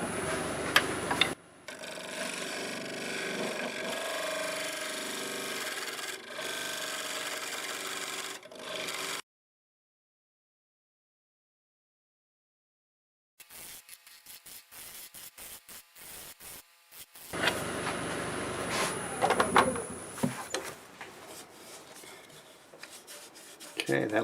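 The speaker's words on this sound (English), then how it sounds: "I'm going to use my 5/8 swept back now and try to go a little deeper here" A 5/8 swept back gouge cuts into a camellia stump turning on a wood lathe. It gives a rough, continuous scraping hiss in two long bursts separated by a few seconds of near silence, with no talking.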